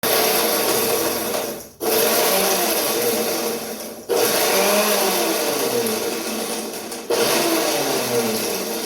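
A kitchen mixer grinder whirs loudly and steadily, grinding red chilli chutney for Schezwan sauce, in three long bursts separated by brief pauses.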